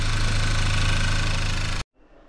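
A rebuilt Audi 1.8 TFSI engine idles steadily and loudly up close, a continuous rumble for almost two seconds before it cuts off abruptly, leaving faint background noise.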